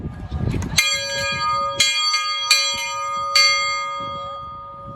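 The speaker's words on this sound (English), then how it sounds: "It says, please ring the bell." A bell hanging at a locomotive stall is struck several times in slow succession, each clear metallic strike ringing out loudly and sustaining its tone before fading; earlier there is a low rumble and no one speaks.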